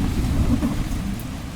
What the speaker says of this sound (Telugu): వర్షం అని స్టార్ట్ అయిపోయింది బీభత్సంగానే.